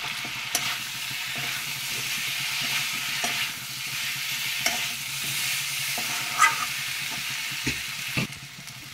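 Potatoes and young jackfruit fry in a pan with a steady sizzle while a utensil stirs them, scraping and knocking at irregular intervals, close and moderately loud with no talk.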